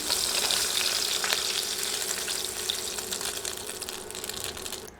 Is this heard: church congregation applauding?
no